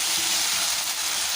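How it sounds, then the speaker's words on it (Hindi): Potatoes frying with spices in a pan for a spicy masala aloo dish, a steady close hiss and crackle of sizzling oil filling the whole short stretch without talk. "अब इसको हम अच्छे से फ्राई कर लेंगे जब तक इसके ऊपर एक अच्छी सी स्किन ना आ जाए"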